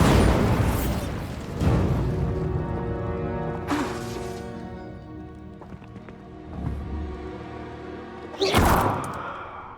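Bombarda spell explosions in Hogwarts Legacy, several booming blasts with ringing tonal magic effects between them, the last burst the loudest, loud and close.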